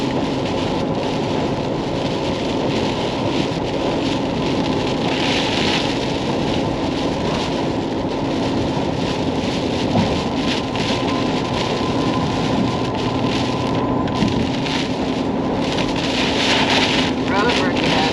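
Heavy rain pounds a moving vehicle while driving into a storm near Lake Ouachita, Arkansas, a dense, loud, continuous downpour with occasional thunder beneath.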